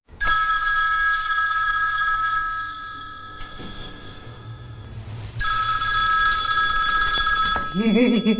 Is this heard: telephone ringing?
yes